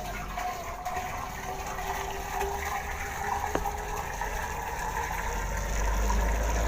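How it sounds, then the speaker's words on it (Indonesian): Water pours steadily into a carbide (acetylene) welding generator, a continuous close rushing and gushing that keeps an even level and swells slightly toward the end, with no voices. "Jadi kita isi dulu sampai batas ini airnya."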